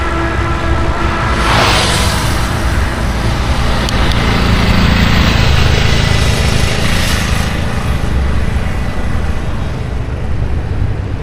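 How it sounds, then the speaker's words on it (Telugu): Lorries and other traffic speed past on a coastal highway between Visakhapatnam and Srikakulum, a loud continuous engine and tyre roar swelling as vehicles rush by close to a moving cyclist, with wind noise throughout. "లారీలు కూడా బాగానే స్పీడ్ వస్తున్నాయి"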